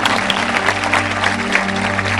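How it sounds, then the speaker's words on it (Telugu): Congregation in a church service clapping hard together, a dense steady wash of applause lasting the whole moment, loud and close with no voices over it. "గట్టిగా చప్పట్లు కొడదాం."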